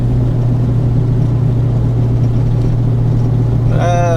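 Vehicle engine fitted with upgraded 3.73 gears holds a steady, loud low drone from start to finish, with no clear rise in revs, and a short rising voice-like tone enters right at the end.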